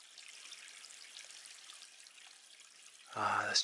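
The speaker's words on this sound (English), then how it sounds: "Let's just be quiet just for a moment and listen to the water." A small stream drops over a little waterfall in a wooded dingle in the Black Mountains, making a soft, continuous rushing hiss at moderate distance. A voice comes in briefly near the end.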